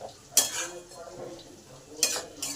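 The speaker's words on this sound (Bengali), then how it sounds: "এই মশলাগুলো ভালো করে 5 মিনিট কষে নেব" Ground turmeric, chilli, coriander and cumin being stirred in a pan give a low, soft sizzle, broken by a few sharp clinks of a spoon against the metal.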